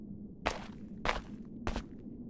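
Three loud, evenly spaced footsteps in the horror game Onryo, heavy thumping steps close up over a low ambient hum, no talk.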